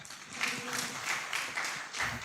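Brief burst of audience applause in an indoor hall at a youth ICT and innovation event, a dense spread of many hands clapping at moderate volume with no talk over it.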